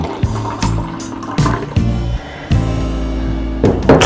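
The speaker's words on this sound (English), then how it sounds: "So it's spring water carbonated. So we'll pour some." Carbonated spring water ginger drink is poured into a glass, giving a close, bubbly liquid splash in several short bursts with gurgling pauses between them.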